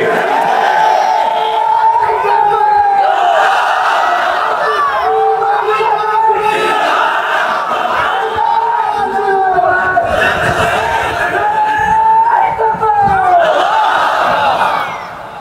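A large crowd chanting Allahu Akbar in loud, rhythmic collective shouts, voices rising and falling in repeated waves, close and continuous throughout.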